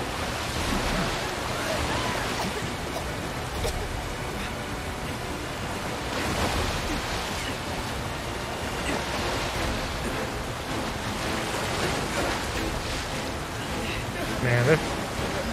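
Rushing, raging water and crashing waves from Final Fantasy 7 Rebirth, a steady loud roar that fills the whole stretch without letup, with a voice talking over it.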